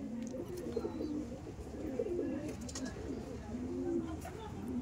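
Red Madrasi pigeons coo inside a loft, repeated soft throaty coos overlapping in a steady rhythm at close range, with faint background voices and small clicks.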